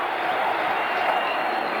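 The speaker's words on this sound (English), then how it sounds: "The crowd tell it all." Stadium crowd at a 1994 India versus Pakistan one-day cricket final roaring after a six, a steady, dense wall of cheering and noise that holds level throughout with no clear voices standing out.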